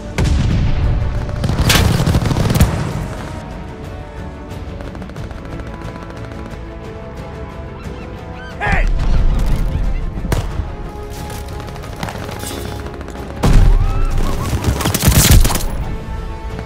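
Call of Duty: Vanguard airstrike: deep booming explosions land in several waves amid scattered gunfire, with loud blasts near the start, middle and end and rumbling debris between them.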